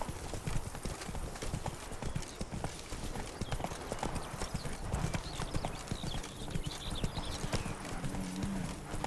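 Roach, a horse in The Witcher 3: Blood & Wine, gallops in a steady rapid clip-clop of hooves, close and continuous, with a faint whinny and some background game ambience.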